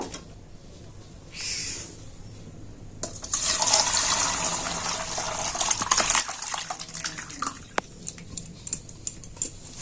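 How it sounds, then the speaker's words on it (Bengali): Chhana being strained through a white cloth, with water pouring and splashing into a vessel in a loud gush, then trickling and dripping with small clinks of utensils. "এর মধ্যে আমি ছানাটা ছেঁকে নেব"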